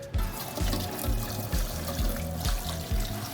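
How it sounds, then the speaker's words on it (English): Water runs from a tap into a metal canner with a rack set inside, a steady, close rushing stream with a hollow drumming resonance that keeps going without a break and has no voices over it. "putting first rack in, and I'll start filling with water"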